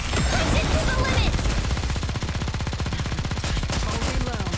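Rapid automatic gunfire from the video game Nikke: The Goddess of Victory, a dense, loud stream of shots running nearly the whole time, with a brief voice line from a game character over the top.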